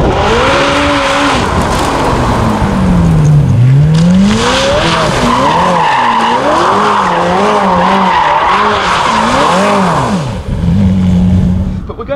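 A McLaren Senna drifting with stability control off, its engine revving and falling in repeated sweeps while the tyres squeal loudly through long slides, close and dominant from start to finish.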